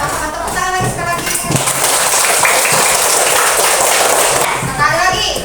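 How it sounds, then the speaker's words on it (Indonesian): A class of children claps hands together in applause at the end of a lesson, a sustained burst of dense clapping under a teacher's voice that opens and closes the moment. "kita sama-sama tepuk tangan lagi sekali lagi"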